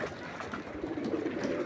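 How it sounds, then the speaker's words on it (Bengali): China Khaki pigeons, a male and a female, coo together in a low, steady, overlapping murmur that runs close and continuous throughout. "অন্য এই যে চায়না খাকি নর আর মাদি দুইটা ডাকাডাকি করতেছে একসাথে"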